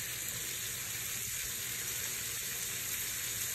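Shrimp, seafood and cod frying in a pan give a steady, close sizzle, a constant bright hiss with faint crackles running unbroken throughout.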